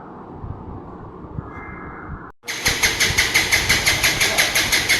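A freshly rebuilt engine cranks briefly, cuts out, then starts and runs with a loud, rhythmic chugging idle close by.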